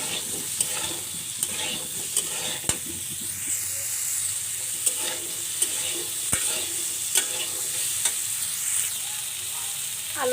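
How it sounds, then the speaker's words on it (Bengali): Potatoes tossed with turmeric, salt and chili powder, stirred and lightly fried in a pan, giving a steady soft sizzle broken by sharp scraping clicks of a spatula at irregular intervals, with no voices. "আলুটা ভালো করে মিশিয়ে নেব এবং হালকা করে ভেজে নেব।"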